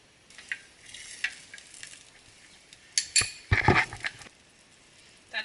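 Popcorn ingredients stirred in a pot with a spatula over medium heat, scattered scrapes and light metallic clinks, quiet and close, picking up into a brief busier burst near the end.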